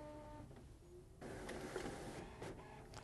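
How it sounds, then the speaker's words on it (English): A Ricoh GX e7700N printer set up for dye sublimation prints a nozzle check, its mechanism whirring and clicking quietly at close range, with a faint steady hum underneath. "And the printer comes alive, folks, and spits out our nozzle check."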